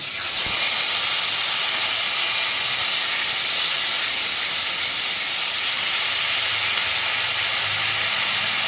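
Onion paste frying in a pan after five-spice seeds and turmeric went in, while cooking a pumpkin and prawn curry: a steady, loud hiss and sizzle that runs unbroken throughout, with no talking.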